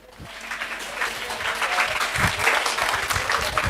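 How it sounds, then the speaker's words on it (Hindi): A room full of people clapping for a girl at an algebra career guidance session, building from a scattered start into steady applause that continues throughout. "इस बच्ची के लिए तो तालियां बनती है।"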